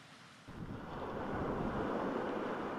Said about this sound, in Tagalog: naglalakihang alon na sinabayan ng malakas na hangin